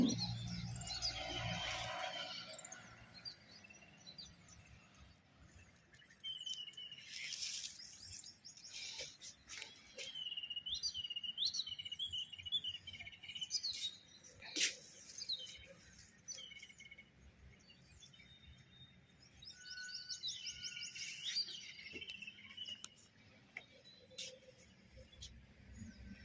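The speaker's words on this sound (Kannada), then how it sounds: "ಕೇಳಿಸ್ಕೊತಾ ಇದ್ದೀರಾ ನೋಡಿ ಹಕ್ಕಿಗಳ ಚಿಲಿಪಿಲಿ ಎಷ್ಟು ಚೆನ್ನಾಗಿ ಸೌಂಡ್ ಮಾಡ್ತಿದ್ದಾವೆ ಅಂತ" Morning birds chirp and tweet intermittently at a distance in a garden, thin high calls scattered over a quiet outdoor background with occasional rustling.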